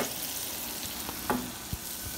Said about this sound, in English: this is called caramelizing your onions